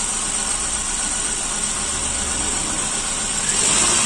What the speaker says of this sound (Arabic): الموتور كيف يترعد